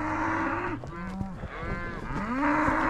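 Cattle low loudly and close in a mountain meadow on a ranch, several long drawn-out moos overlapping one another with no talking.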